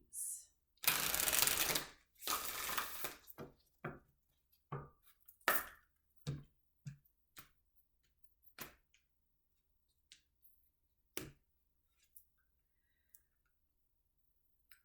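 Oracle cards are shuffled close up in two short riffling bursts, then a series of lighter card taps and flicks with silent gaps between them.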